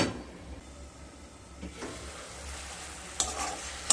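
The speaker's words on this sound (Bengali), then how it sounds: "দিয়ে মশলাগুলোকে মিডিয়াম টু লো স্টিমে ভালো মতো কষিয়ে নেব।" Spices sizzle softly in a pan on medium-low heat for a Katla fish curry with drumsticks, with occasional scraping stirs. The sound is faint and close, with no voices.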